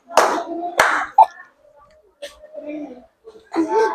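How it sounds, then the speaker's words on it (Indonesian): Children in a classroom give two sharp hand claps in quick succession, loud and close, followed by scattered small voices and quiet chatter. "Tepuk tangan 2 kali."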